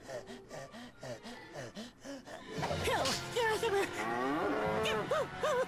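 A cow moos repeatedly in the Crash Tag Team Racing video game, a run of short rhythmic lows followed by longer, louder drawn-out moos, close and clear with no talking.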